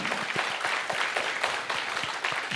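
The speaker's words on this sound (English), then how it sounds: "The best claps are the claps which are faster, which are louder and longer." A crowd claps quickly and loudly at a business HR event in Delhi, with dense, continuous applause and a few louder individual claps.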